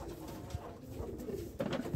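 Pigeons in a pigeon loft, including a Sirazi pair, coo in low, overlapping murmurs, with a louder burst of cooing toward the end, fairly close and without talk.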